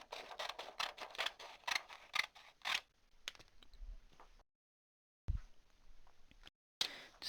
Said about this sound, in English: just going to snip